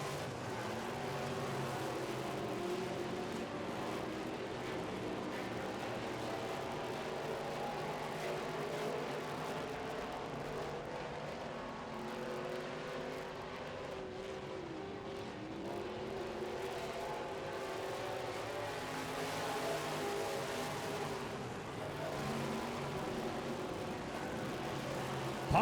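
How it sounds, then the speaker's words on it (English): Midwest modified race cars run around a dirt track, their engines a continuous distant roar and drone that rises and falls as the field circles, with no close pass standing out. "James Wall powering down the back chute into turn 3."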